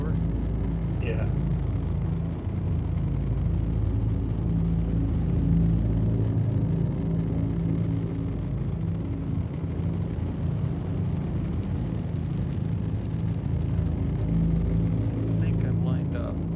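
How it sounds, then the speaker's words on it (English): Dropship engines roar steadily during descent in the BattleTech video game, a dense, continuous low rumble with a broad hiss that fills the whole stretch, while someone talks over it. "Hear the engines kick in more as the gravity took over."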